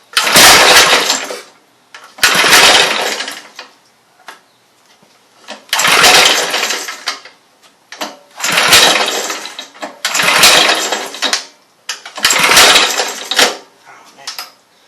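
A 5 HP Briggs and Stratton small engine being pull-started, repeated loud rattling bursts of cranking that each last about a second, separated by short pauses and faint clicks, up close.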